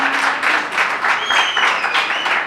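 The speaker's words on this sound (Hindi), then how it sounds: "उनके लिए तालियां बजावें, स्वागत करें" Audience applause at a kavi sammelan poetry gathering in Indore, a dense continuous wash of clapping throughout, with a faint whistle-like tone rising over it midway.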